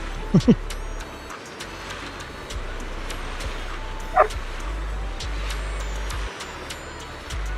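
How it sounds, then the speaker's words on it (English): A dog barks twice in quick succession near the start, followed later by a single louder yelp, all over steady room noise with people talking nearby. "now he can bark in a frequency that the microphone can pick up"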